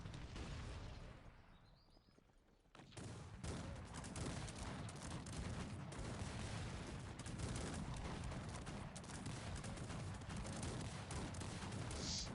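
A dense barrage of cannon fire and battle noise from the strategy game Cossacks 3 rolls on continuously after a brief quieter moment, sustained and loud throughout.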